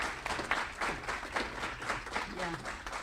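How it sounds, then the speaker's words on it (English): An audience at a mayoral debate claps steadily in a dense, sustained round of applause, with a voice speaking over it. "Let's do a round of applause for both of our candidates today."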